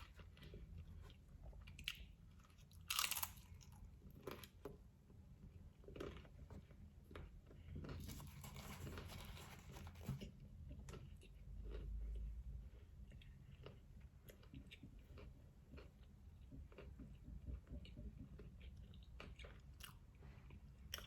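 Close, quiet chewing and biting of crunchy tortilla tacos, with repeated soft crunches and wet mouth sounds over steady low background noise.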